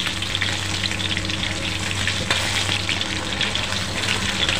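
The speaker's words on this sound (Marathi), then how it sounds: "मी पनीर काढून घेते, एकदम छानपैकी फ्राय केलेले आहेत" Paneer frying in hot oil in a pan for paneer dum biryani makes a loud, continuous close sizzle with soft stirring, without talking.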